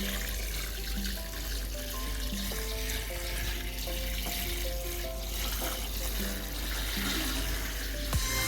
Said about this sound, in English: Just going to give them a good water and they will be all good in here for a long time.